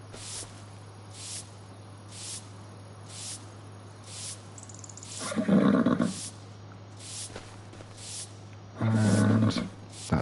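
Horses neighing in the farming game Farming Simulator 25, two loud whinnies a few seconds apart rising over a steady low hum and soft rhythmic ambient pulses.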